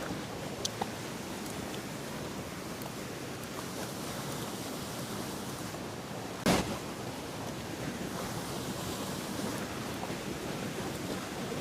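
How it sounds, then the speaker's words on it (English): A waterfall pours into a natural pool, giving a steady broadband rush of falling water that holds even and continuous throughout, with one brief thump partway through and no talking. "Our own private waterfall pool."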